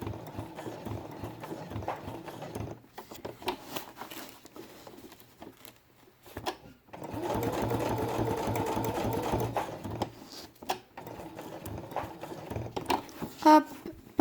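A sewing machine stitches through felt for a baby's quiet book, running in several bursts of rapid mechanical clatter separated by brief pauses, close and fairly quiet, with no talking.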